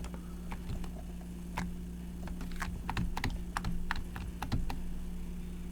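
Keys tapped on a computer keyboard in irregular bursts of clicks, close and fairly quiet, with short pauses between runs and no talking.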